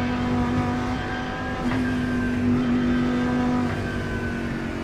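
Lamborghini GT race car in a racing video game at Watkins Glen, its engine droning loud and steady with a sharp tonal jump at a gear change partway through, then holding a high rev.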